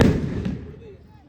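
Firecrackers burst with a sharp loud crack at once, then a crackling tail that fades away over about a second.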